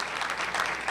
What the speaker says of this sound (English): Y'all need to give him a round of applause